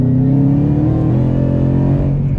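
A car fitted with a Whipple 5.0 supercharger accelerates hard, its loud, steady engine drone climbing in pitch with a layered whine throughout.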